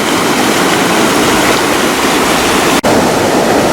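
Loud, constant rushing water overflows a weir with a dense roar and no variation, close and overwhelming, broken only by a momentary dropout near the end.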